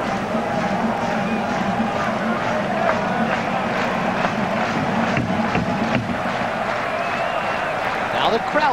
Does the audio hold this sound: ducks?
no